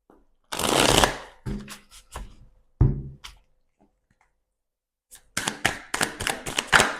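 Tarot cards shuffled in bursts of rapid riffling and flicking, loud and close, with a quiet pause in the middle before a final run of sharp card snaps.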